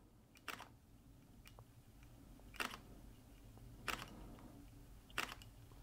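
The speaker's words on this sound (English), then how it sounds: "how slow it takes to actually close the shutter and capture the photo" A Panasonic Lumix S5II camera shutter, used with a flash, clicks four times at irregular intervals, each a short crisp snap close by in an otherwise quiet room.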